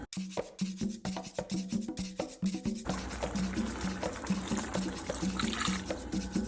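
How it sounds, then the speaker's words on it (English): Water poured from cups into a pot of Puerto Rican guisado (stewed sauce) on the stove, a steady splashing, gurgling fill that runs continuously for several seconds, close and fairly loud, with no talking. "Probably add 2 cups of water, which that's what I'm gonna do."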